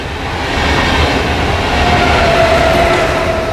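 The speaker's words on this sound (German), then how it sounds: "Der IC 2047 nach Dresden" A first-generation IC2 intercity train runs through a station without stopping, producing a loud, close, sustained rumble and rolling rush that builds after a moment, with a thin wheel squeal appearing partway through.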